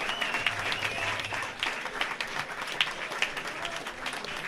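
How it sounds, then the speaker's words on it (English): An audience at the Bumblebash 3 closing ceremony applauding for Dylan Higgins, a continuous crowd of clapping hands, moderately loud with slight swells, with a faint voice underneath. "One more amazing round of applause for the one and only Dylan Higgins."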